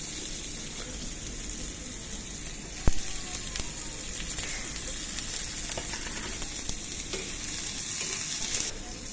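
Onions and chilies fry in a wok on a stove, a continuous close sizzle with stirring clatter and one sharp clink of a utensil against the pan partway through, no voices.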